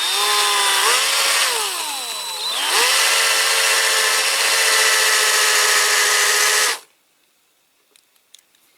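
A power drill whines loudly and continuously as it drills out the rivets on a Corgi Toys 246 Chrysler Imperial die-cast model car, the pitch dipping under load before it stops abruptly into near silence.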